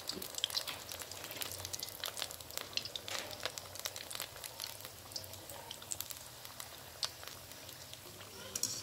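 Wheat flour gulgule, a sweet dough fritter, fry in hot oil with a steady soft sizzle and scattered crackling pops, fairly quiet and close, with no talking over it.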